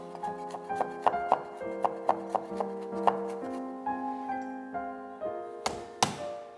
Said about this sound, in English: Crush and peel 4 pieces of garlic. Finely chop.